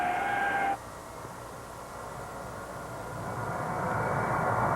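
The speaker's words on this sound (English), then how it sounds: "the C-5 Galaxy is the free world's largest military cargo carrier" Lockheed C-5 Galaxy military cargo airlifter engines, a loud steady jet roar that swells gradually, with a brief tonal whine at the start before it drops away; no speech.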